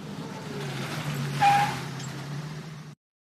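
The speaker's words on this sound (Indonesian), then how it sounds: "The bus is coming." A bus pulls in: a steady low engine rumble swells briefly near the middle and then holds, with no talking.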